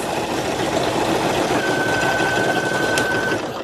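Embroidery machine stitching small star designs for in-the-hoop vacation ears, a steady loud mechanical whirring hum with rapid needle rattle and a brief high whine partway through.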